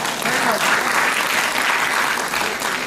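Steady applause from a live audience at a motivational speech, dense clapping holding at an even loudness for about three seconds with no voices over it.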